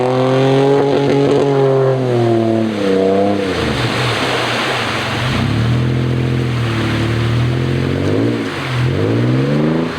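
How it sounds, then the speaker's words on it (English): An old off-road rig climbing a rough Ozarks trail, engine howling at high revs and repeatedly cutting out against the rev limiter in stuttering bursts, loud and close with no talk. "the old rig still sounds great bouncing off the rev limiter"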